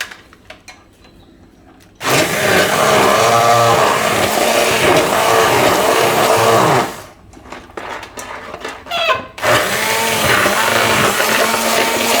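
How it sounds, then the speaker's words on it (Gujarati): A kitchen blender whirs loudly through boiled masoor lentils with a little water, starting abruptly, running for several seconds, stopping and pulsing briefly, then running again. "આપણે આને થોડુંક એમાં બ્લેન્ડર ફેરવી દેવું એટલે એકદમ એકરસ થઈ જાય બધી એમ"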